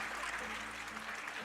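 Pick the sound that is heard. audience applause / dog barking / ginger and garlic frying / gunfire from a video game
audience applause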